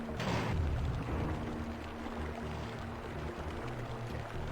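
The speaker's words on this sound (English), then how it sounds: "That was the last switch needed to lower the water." Water drains away after the last switch lowers it in a fantasy video game dungeon, opening with a loud pouring gush that settles into a steady churning flow with a low mechanical hum beneath.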